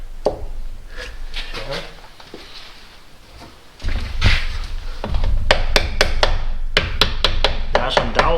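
Piston pins are tapped into new connecting rods during an M113 engine rebuild, with sharp, close metallic knocks in irregular bursts, several quick taps clustered near the end over a workshop background, and a voice talking at times.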